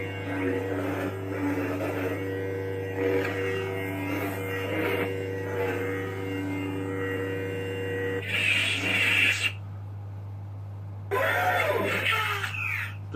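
A Kyberforge lightsaber blade on sound font number 3 gives a steady low electric hum with a faint scratchy overlay, then a louder buzzing swell, a sudden cut to near silence and a return of the hum.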